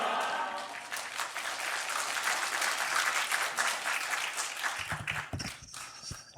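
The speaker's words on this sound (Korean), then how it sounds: "이 박수 소리는 성도님들의 인격을 나타내준 줄 믿습니다." A church congregation applauds in a sanctuary during a Sunday service. The full, continuous clapping lasts several seconds and then stops abruptly, followed by a few scattered room sounds.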